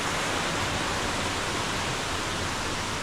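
A waterfall in Bohol, Philippines, rushes in heavy rain, a steady loud broadband roar of falling water that holds evenly throughout with no voices.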